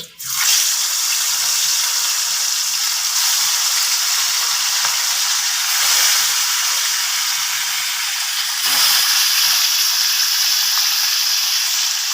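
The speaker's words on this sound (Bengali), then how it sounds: "তেলটা ভালো করে হাইয়ে গরম করে সিমে দিয়ে মাছটা আমি ভালো করে ভেজে নেব" Snakehead fish fries in hot oil in a pan, producing a loud, continuous hissing sizzle that holds steady throughout with a slight surge near the end and no talking.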